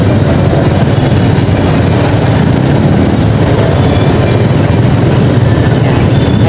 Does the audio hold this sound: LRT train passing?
yes